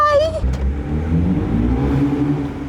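A BMW F30 328i with its exhaust cut off before the resonator gives a loud, close rev that swells and holds as a raw drone, following a brief voice at the start.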